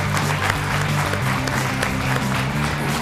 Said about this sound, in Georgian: მაშინ აპლოდისმენტები დამსახურებულებს.